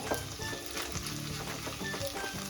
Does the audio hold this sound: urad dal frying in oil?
yes